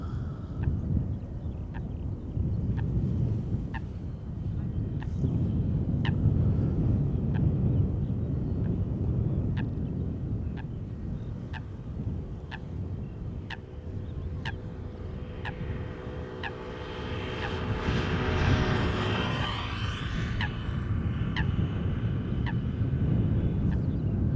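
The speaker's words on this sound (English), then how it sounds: "coming to our runway, is a KLM 737-800 arriving from Manchester, KLM flight 1072" A KLM Boeing 737-800 arriving on the runway at Schiphol Airport, heard as a steady distant jet rumble with a rising engine whine partway through, plus faint regular ticking in the background.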